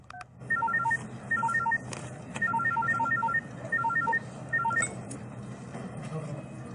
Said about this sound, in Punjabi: ਉਸੇ ਨੂੰ ਫੋਨ ਕਰਦੀ ਹਾਂ।